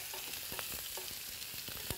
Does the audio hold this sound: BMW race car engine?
no